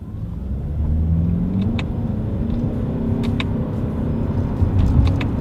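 A 2020 Toyota Avalon Hybrid sedan accelerates in sport driving mode with its paddle shifters in use, giving a steady loud cabin engine rumble and road drone throughout, with faint clicks and no speech.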